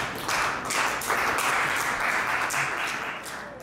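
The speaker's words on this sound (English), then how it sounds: "Give a round of applause for Quinn West, everybody." Audience applause at an open mic night welcoming a newcomer to the stage, continuous clapping at a steady level for several seconds.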